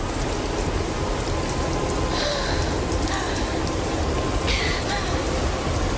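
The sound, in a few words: wind and rain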